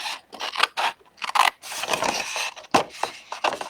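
Scissors snip through paper card along a score line while a papercraft gift box is shaped, a close run of crisp, uneven cuts with short pauses, no talking.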